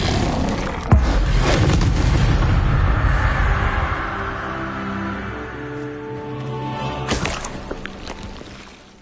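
An Incendio fire spell is cast in Hogwarts Legacy, a sudden booming burst that rolls into a roaring whoosh and slowly fades, followed later by a second sharp impact, loud and close.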